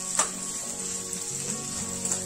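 Kartula, a wild monsoon vegetable, sautés in a pan over low to medium flame, giving a steady close sizzle with a few soft stirring scrapes.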